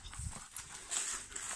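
Wild horses walking through woodland, hooves clip-clopping in a steady, close, moderately loud rhythm over faint outdoor ambience.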